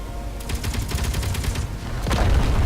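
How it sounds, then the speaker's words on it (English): Meteor storm strikes in Space Engineers: a rapid burst of loud, crackling impacts for about a second and a half, then a deeper booming hit rumbling near the close. "Just as I was about to start speaking, a meteor storm comes in."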